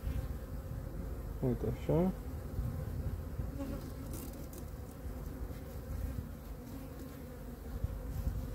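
Honeybees buzz steadily around an open hive during an inspection, a close continuous drone with a brief louder pass from a single bee, while a person speaks briefly over it.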